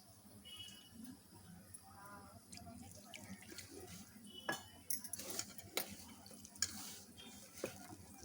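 Water trickles into a bowl while lentil dough is mixed by hand for making crispy snacks, with soft pouring, intermittent clinks of utensils and dishes, and sharp knocks toward the end, fairly quiet and close.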